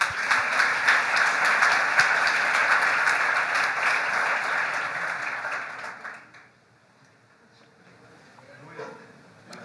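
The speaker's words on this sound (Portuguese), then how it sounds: "Vamos aplaudir aqui esses homens?" A church congregation claps loudly and continuously for about six seconds before the applause drops away abruptly into near silence with faint room noise.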